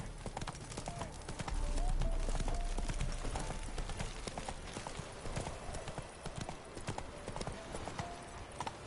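A horse gallops in The Witcher 3 video game, rapid rhythmic hoofbeats pounding steadily and close throughout, with a rumbling swell early on.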